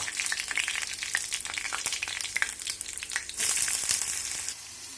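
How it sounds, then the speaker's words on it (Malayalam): Ginger garlic paste sizzles and fries in a hot pan, a dense steady crackle with stirring scrapes, growing briefly louder near the end before easing off; no voices. "ചട്ടി ചൂടായി ഇഞ്ചി വെളുത്തുള്ളി ഇതൊക്കെയുള്ള പേസ്റ്റ് ഇടുക"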